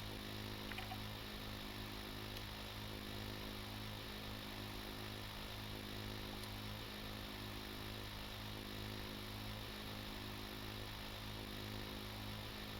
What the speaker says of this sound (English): Let's keep drilling.